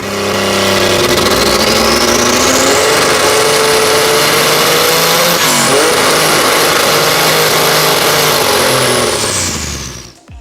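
Porsche 911 Carrera RSR race engine revving loudly and continuously, climbing in pitch, dipping briefly near the midpoint, then rising again before cutting off at the end, close and dominant with no talk.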